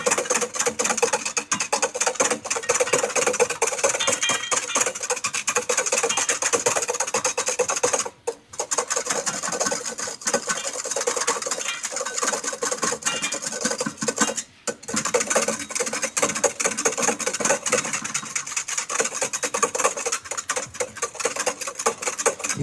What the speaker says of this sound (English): A second time of our lemon juice. Continually whisking it thinned out again.